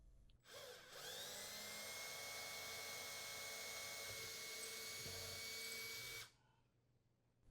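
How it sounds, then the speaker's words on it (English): A power drill with a 1/8 inch bit whirs steadily at high speed for several seconds while drilling holes for a gas range anti-tip bracket, starting and stopping abruptly, close and loud. "drill the holes where marked."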